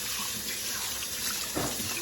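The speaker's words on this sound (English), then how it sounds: "rinse it off" Tap water runs steadily into a sink while juicer parts are rinsed. The broadband rush is close and continuous for the whole stretch, with a slight splash change near the end and no voices.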